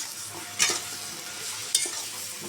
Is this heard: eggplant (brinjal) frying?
yes